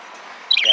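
Pet birds outdoors giving a short burst of high chirps at the very end, loud and close after a faint, quiet stretch.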